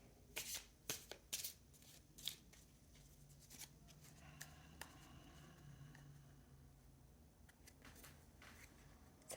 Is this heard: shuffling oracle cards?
yes